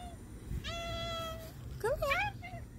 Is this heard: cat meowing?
yes